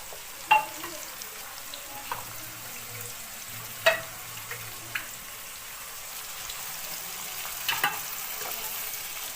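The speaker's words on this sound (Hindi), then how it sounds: "तो मैं इसमें थोड़ा पानी डाल देता हूँ।" Jackfruit curry masala paste of ground spices and meat masala fries in a pan as water is poured in, giving a steady crackling sizzle with a few sharp pops and stirring clicks, close and alone.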